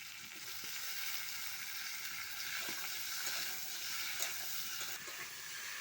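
Cauliflower, potato and tomato are stir-fried in a pan, giving a soft, even sizzle with faint scraping from stirring, fairly quiet and with no voices.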